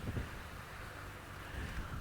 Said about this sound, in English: That's very, very, very, very, very windy.